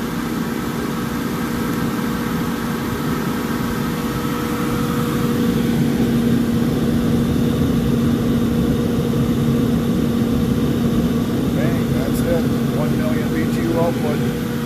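A Viessmann boiler burner roars with a steady, heavy drone and low hum, growing noticeably louder partway through as it steps from low fire to high fire and holding at that higher level.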